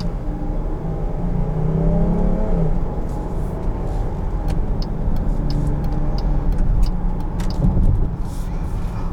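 2021 Jeep Grand Cherokee L Limited accelerating from inside the cabin: a steady engine drone rising in pitch as it revs, with road and wind noise underneath and scattered light clicks and rattles, fairly loud throughout.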